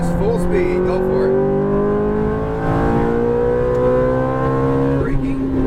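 A Ferrari F430 engine pulling hard under full throttle on a track, a loud rising whine with strong engine harmonics climbing steadily, with a person talking over it.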